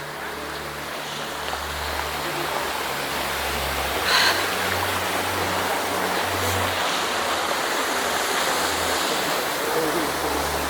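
A mountain stream on the Palabaddala trail up Sri Pada, running low on a dry day, rushes in a steady, loud broadband wash that continues without a break.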